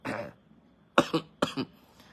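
A person coughs several times, a short cough followed by two sharp double coughs, close and fairly loud with quiet gaps between.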